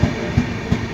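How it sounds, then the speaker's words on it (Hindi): Godavari Express passenger train rolling past on the Hyderabad–Visakhapatnam line, close by, with three evenly spaced heavy wheel thumps over rail joints under a steady low rumble. "गोदावरी एक्सप्रेस को पहले निकाल दिया गया है।"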